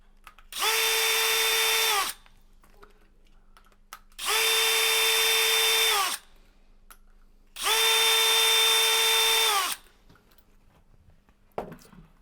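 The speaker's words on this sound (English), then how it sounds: "So first we'll use the extended driver in your 18-volt drill" An 18-volt cordless drill with an extended driver bit undoes retaining bolts on a valve housing, giving three loud, steady whirring bursts of about two seconds each, separated by quiet pauses and a small clunk.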